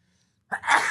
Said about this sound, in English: I felt that sneeze coming for like 10 minutes